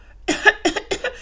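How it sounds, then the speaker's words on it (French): An old man's coughing fit: three harsh, close coughs in quick succession, each with a short rasping tail, loud and alone with no talk. "Et le petit vieillard s'abîma dans sa toux"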